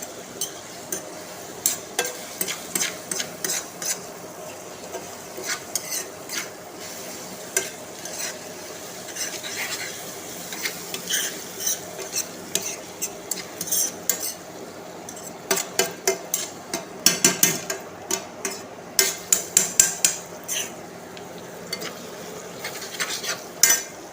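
Spoon stirring and sautéing ingredients in oil in a pan while making homemade hair oil, with steady sizzling under frequent sharp metallic scrapes and clinks against the pan, irregular and close.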